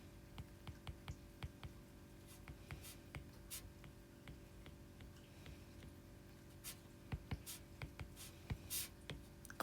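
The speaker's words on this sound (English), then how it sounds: "So I'll write that here." A pen or marker writing on a surface, with faint, close scratchy strokes and little ticks in an irregular rhythm over a quiet, humming room.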